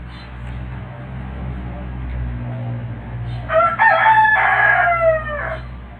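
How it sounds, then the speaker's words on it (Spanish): A rooster crows loudly and close by in the second half, a single drawn-out cock-a-doodle-doo over a steady low background hum, with no talking during the call. "el gallo quiere hablar más que yo"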